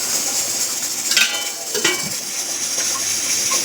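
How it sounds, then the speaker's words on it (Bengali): A metal lid clanks shut on a pot of mutton biryani with parboiled rice, two short knocks over a steady kitchen hiss, close and moderately loud, with no talking. "এবার এটা আমি আবার ঢাকাটা বন্ধ করে দিচ্ছি"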